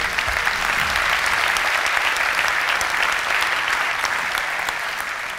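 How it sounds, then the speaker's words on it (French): Sustained audience applause at an award ceremony, many hands clapping steadily and evenly throughout, dense and fairly loud, with no voices over it. "Je pense qu'on peut tous les applaudir, bien entendu."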